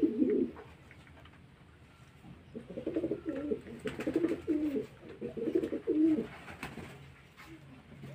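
Pigeons coo inside a loft in short, soft, repeated bursts, one brief call at the start, then a longer run of throaty coos with quiet gaps between them.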